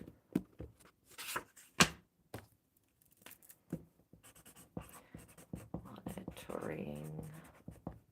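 Pen scratching across a card in short, close strokes with pauses between them, faint and dry, followed by a brief murmured voice near the end.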